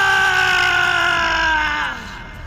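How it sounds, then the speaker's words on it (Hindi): A cartoon ghost screams loudly after its clay pot shatters, a sustained high wailing cry that holds steady and then fades slightly toward the end. "मटका फूटते ही भूत चिल्लाने लगता है"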